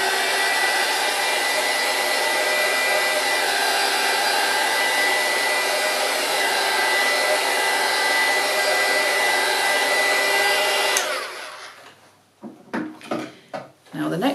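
A hair dryer blasts steadily at close range to dry paint on a craft project made with industrial straws, running loud and unbroken for about eleven seconds before cutting off, leaving a few quieter knocks and handling sounds.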